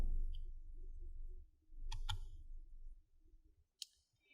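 A computer mouse clicks while working in Google Docs. There are a few sharp, quiet clicks, a quick pair in the middle and one more near the end, over a low hum.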